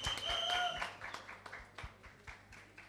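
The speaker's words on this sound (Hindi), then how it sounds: "और जोरदार तालियां इन बच्चों के लिए यार" At a film song launch event, a small audience gives scattered applause, a few hands clapping unevenly, with a brief whistle-like tone at the start and faint background noise.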